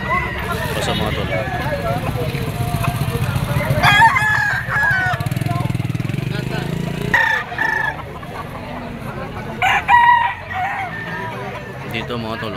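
Bull stag roosters crow repeatedly at a livestock auction market in Padre Garcia, Batangas, several loud crows rising over clucking and background chatter, with people talking nearby.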